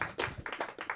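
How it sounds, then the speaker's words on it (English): Audience at an LA School of Comedy show clapping in a short burst of several quick, fairly close hand claps with no voices over them. "I really, really, really want to clap for Sunda Kronquist."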